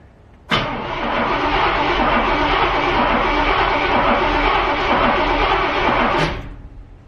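A 1971 Cutlass engine cranks over steadily and loudly for about six seconds with no speech, starting abruptly and cutting off as cranking stops.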